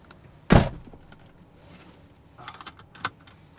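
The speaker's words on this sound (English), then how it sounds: "Door unlocked." A car door gives a sharp, loud thunk near the start, then a pause, followed by a couple of quieter clicks and rattles of the latch or keys a few seconds later, close by, with no talking.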